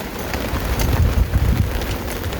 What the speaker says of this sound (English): So we have ridden through our first storm.